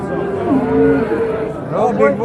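A cow lows at an Angus cattle market in Kattaqo'rg'on, a long drawn-out moo near the mic, with a second shorter bellow at the end over faint crowd murmur.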